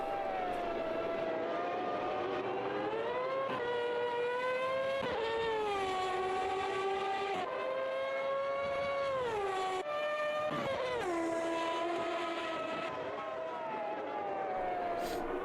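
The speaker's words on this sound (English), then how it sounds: "That definitely does sound like a V8." V8 engine of a 1995 Formula 1 car in a racing video game, a continuous high wailing tone that rises and falls with gear changes, sustained and steady throughout.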